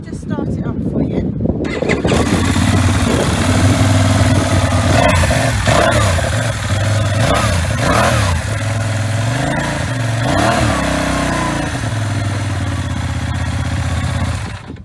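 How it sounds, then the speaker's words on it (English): A 2023 Benelli Leoncino 800 motorcycle engine cranks and catches after a short quiet moment, then settles into a deep idle with several throttle blips and revs rising and falling close by. "So let me just start it up for you."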